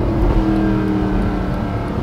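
Mercedes-Benz SLS AMG Roadster engine while driving, a steady loud low rumble heard from inside the car with no talk.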